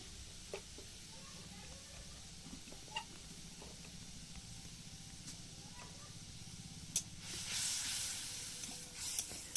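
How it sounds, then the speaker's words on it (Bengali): Spice paste with Kashmiri chilli powder and turmeric sizzles and fries steadily in a pan for village-style egg curry, a soft continuous hiss with brief clinks and a louder burst of sizzling late on as water meets the hot masala. "তাই জল দিয়ে দিয়ে মশলাটা কষিয়ে নেব"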